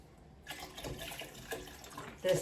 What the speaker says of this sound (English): we're adding 8 cups of broth